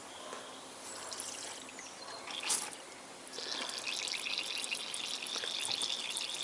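Coolant pours steadily into the engine of a Toyota Corolla with a VVT-i engine, a continuous trickling stream that grows fuller and louder partway through, close by with no talking.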